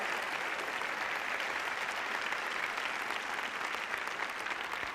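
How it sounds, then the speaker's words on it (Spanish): Audience applause for people being welcomed at a course session, a steady dense wash of clapping held at an even level for the whole stretch, no voices over it. "a las que están en el planeta les damos un aplauso, por favor"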